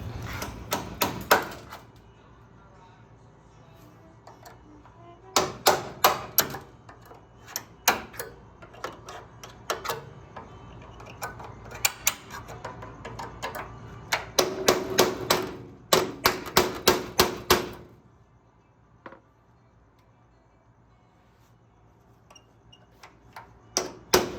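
Sharp metallic hammer taps on a metal punch come in clustered bursts of rapid strikes separated by quiet pauses, close and crisp.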